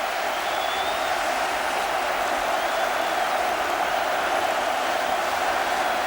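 A vast stadium crowd at the 1982 FA Cup Final between Spurs and QPR roars and applauds the teams onto the pitch, a steady, dense wash of distant cheering that never lets up.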